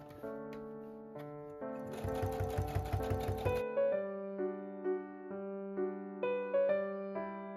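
A sewing machine stitches a folded satin skirt waistline in several short bursts, with a dense, rapid mechanical chatter in the middle and lighter, evenly spaced stitching runs afterward, close and clear with no talking.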